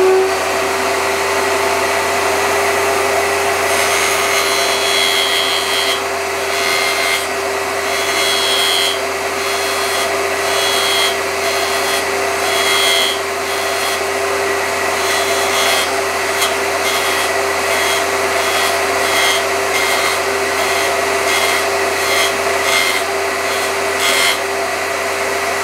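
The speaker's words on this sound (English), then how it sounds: "I'm going to turn the saw on again, put this in place, set it down, and pull it back and forth like this while turning the dowel" A power saw with a steady whine cuts a tenon into a wooden dowel turned by hand for a wheel hoe handle; repeated rasping bursts of the blade biting wood sound close over the constant motor hum.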